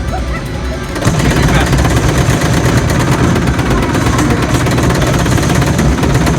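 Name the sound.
assault rifle gunfire in video game Halo: Fire Team Raven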